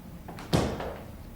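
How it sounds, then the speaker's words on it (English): A door is pushed shut indoors, a single solid thump with a short rattle after a brief rustle of handling, then a quiet room tone. "shut the door."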